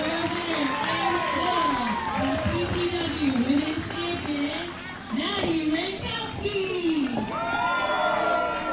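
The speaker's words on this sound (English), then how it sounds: "now you can definitely hear the crowd here in Buda firmly behind Madi Wrenkowski" A wrestling crowd in Buda, Texas cheers and shouts loudly and steadily throughout, with many voices, including high children's shouts, rising and falling in waves.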